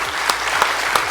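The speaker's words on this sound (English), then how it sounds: "Let's give him a round of applause" Audience applause for a real estate agent on stage, a short burst of clapping with a few sharper, louder claps standing out at regular intervals.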